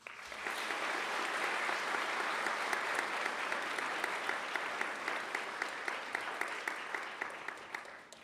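An audience at an academic honors ceremony applauds scholarship recipients, a steady sustained wash of clapping from many hands filling the room evenly from start to finish.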